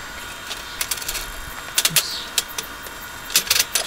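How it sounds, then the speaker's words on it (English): Tack welding horseshoes onto a steel weld table from underneath, through its clamping slots: short, sharp crackling bursts come in scattered clusters over a steady background hiss, fairly close. "Putting these tack welds in to hold them exactly where I want them."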